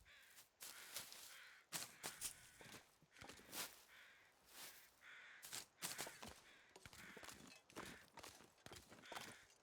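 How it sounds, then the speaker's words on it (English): Crows caw repeatedly in The Long Dark, harsh calls coming in irregular bursts across a near-blizzard winter scene, loud and close, with wind or crunching steps between them. "Yes, crows, we hear you."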